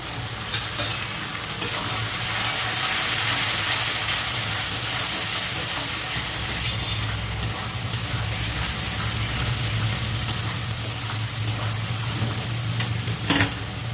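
Spices with salt, turmeric, chilli and cumin powder fry in oil with a splash of water for ghugni, a steady close sizzle and hiss running throughout, broken by a few stirring scrapes near the end and no speech.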